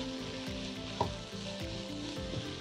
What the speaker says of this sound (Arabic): كده ضفنا كل التوابل بتاعتنا، هنقلبهم مع بعض كلهم.